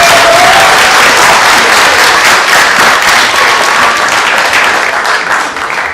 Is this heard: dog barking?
no